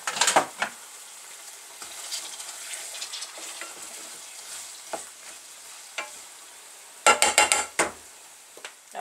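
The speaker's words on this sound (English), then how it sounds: "Now the onions go in with the sausage. Put the lid on and just give it a stir" Onions and sausage in a pot make a soft, continuous sizzle, broken by scraping stirs and clattering utensil knocks against the pot, with a loud cluster of clanks near the end.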